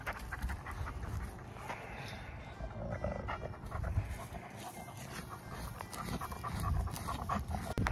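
A rescue wolfdog panting out in a big field, quick rhythmic breaths close by over faint outdoor rustling and movement, no talking.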